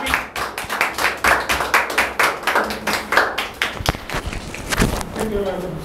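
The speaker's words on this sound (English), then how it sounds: "please give a clap" An audience at a self-confidence talk claps in a loose, uneven rhythm of distinct hand claps at close range, with a few voices briefly audible near the end.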